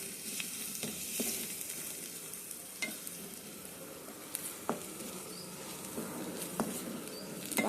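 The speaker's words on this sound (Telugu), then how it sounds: "అల్లం వెల్లిగడ్డ కొంచెం పచ్చి వాసన పోయేదాకా కలపండి." Ginger-garlic paste with turmeric stirred and fried in a pan, soft steady sizzle with repeated scraping clicks of a spoon at irregular intervals, close by.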